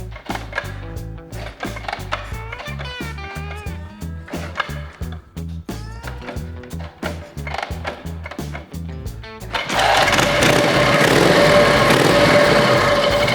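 A low 1955 Harley-Davidson Panhead chopper is kick-started with a string of rhythmic mechanical thumps and clanks. The engine then catches and settles into a loud, steady roar, with no talk.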